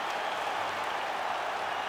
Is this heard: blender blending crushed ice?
no